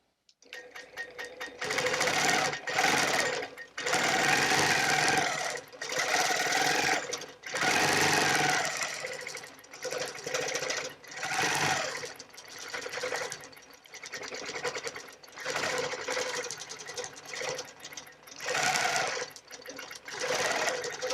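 A sewing machine stitches a quilt in several bursts of rapid mechanical whirring, each run a few seconds long and separated by brief pauses, close and alone.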